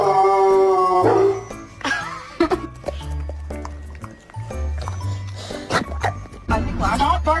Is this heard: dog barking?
yes